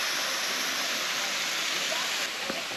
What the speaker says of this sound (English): there's a huge waterfall here that I'll be seeing